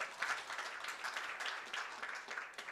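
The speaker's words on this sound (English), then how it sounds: "let's give him a hearty clap" Attendees at a county quarterly review meeting clap to welcome a speaker, a fairly quiet, brief patter of scattered hands from a modest group.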